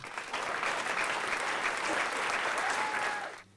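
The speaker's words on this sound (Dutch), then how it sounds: "Applaus!" A crowd at a municipal sports awards ceremony in Venray claps steadily for several seconds, dense applause at an even level that tapers off abruptly at the end.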